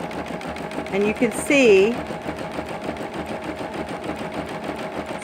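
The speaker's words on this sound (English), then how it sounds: "So I put down the presser foot and start sewing." A Singer Quantum XL-100 sewing machine runs continuously with a rapid, even mechanical rattle, heard close while someone talks over it briefly.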